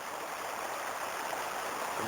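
The Belica river flows at its mouth with a steady, close rushing and burbling of running water, constant and even with no voices.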